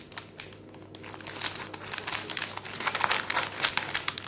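A plastic packet holding a LEGO DC Comics Shazam minifigure being handled and cut open with scissors, with close, continuous crinkling and rustling of thin plastic.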